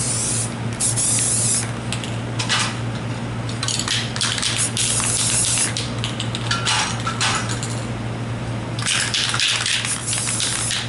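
Rust-Oleum Painter's Touch spray paint hisses onto a gesso board in long continuous bursts, close and steady with brief pauses between passes.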